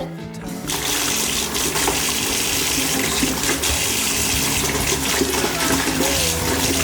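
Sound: tap water running into bath

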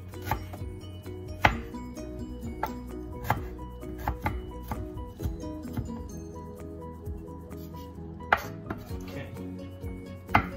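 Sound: chopping ginger root finely with a knife

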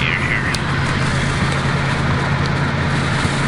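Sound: Mustang GT engine accelerating after shifting into fifth gear

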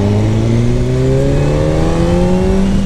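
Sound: new motorcycle accelerating hard

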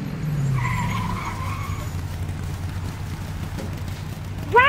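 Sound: race car pulling into the pit stop

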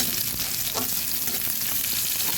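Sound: onions frying in a pan

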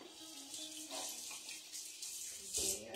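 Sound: water running from a tap while rinsing hands

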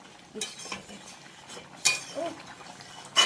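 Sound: stirring crab curry in a pan

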